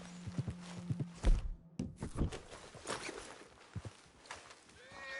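A horse in Red Dead Redemption 2 stamps and clops with heavy thuds, then gives a short whinny near the end, close by and without talk over it.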